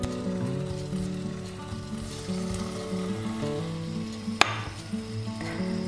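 Shrimp sizzle in melted butter with sliced garlic in a frying pan, a steady close bubbling hiss with one sharp clink partway through and no talking.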